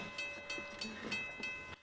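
A train in the film Final Destination rumbles past with faint rhythmic clatter and a steady tonal horn-like whine, quiet and distant in a movie soundtrack.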